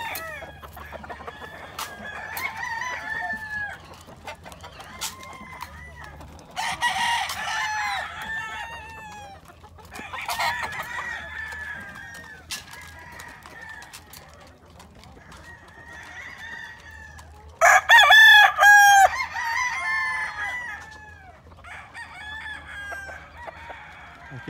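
Roosters, roundhead gamefowl among them, crow and cluck in a yard with many birds, several calls overlapping at close range, with one loud burst of crowing near the end and brief talk in the background.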